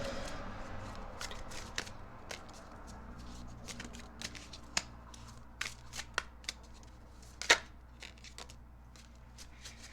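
Tarot cards being shuffled by hand before a draw, a run of soft riffling and sharp card snaps in an uneven rhythm, close-up and fairly quiet, with no talking.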